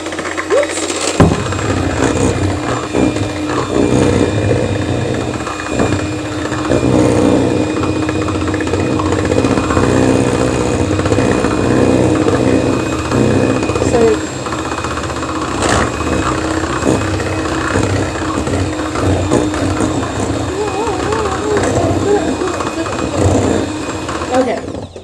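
Electric mixer beating pumpkin bread batter in a home kitchen, a steady loud motor whir running continuously throughout with slight shifts in pitch as the beaters move through the batter.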